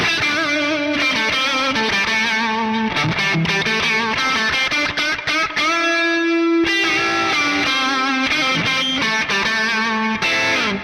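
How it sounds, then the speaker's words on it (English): An ESP LTD EC-1000 electric guitar through a crunchy hard rock amp tone strums driving, distorted chords and riffs, with one long held chord midway, loud and up close with no voices. "now it's a little bit more of like a crunch amp, so it's like hard rock, getting into metal kind of tones."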